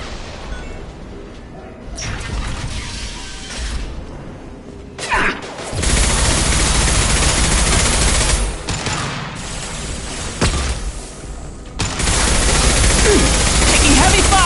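Heavy gunfire in the video game Mass Effect 2: loud, dense automatic bursts and crashing impacts pour in almost without pause, broken by a few short lulls before surging again.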